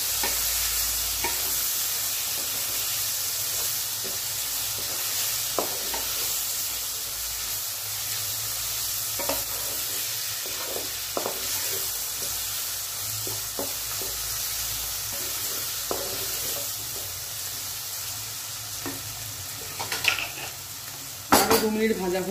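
Chopped green chilli and tomato sizzle steadily in a pan while being stirred for a vegetarian pasta sauce, with utensil scrapes and clinks on the pan throughout and a louder clatter near the end.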